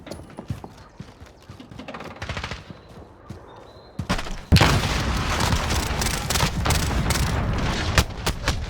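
Gunfire crackles in a video game esports match: scattered shots at first, then a dense, loud burst of rapid automatic fire sustained through the second half.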